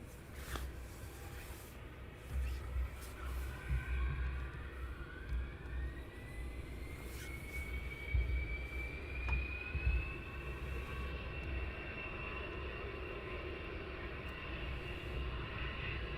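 An aircraft backtracks along runway 25 at Luton Airport, a steady, loud engine drone with a slowly rising whine that holds throughout, with no voices.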